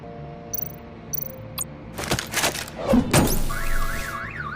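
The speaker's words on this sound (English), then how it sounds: "My bat stunner would set off the car alarm." A car alarm in Batman: The Enemy Within is set off by a bat stunner: a few sharp electronic zaps and thuds, then the alarm's warbling rising-and-falling tone starts and repeats under faint ambient hum.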